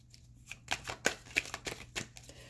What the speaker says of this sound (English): I know it's like horrible to watch somebody just sit and shuffle